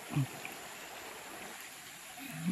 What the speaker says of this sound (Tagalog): Ganda ng ilog nila.